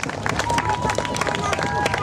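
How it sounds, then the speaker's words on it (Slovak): Audience applause and cheering for a dance group at a school performance event, dense steady clapping with crowd noise, loud and close, with speech over it. "ešte raz obrovský potlesk pre tanečnú skupinu Taxis"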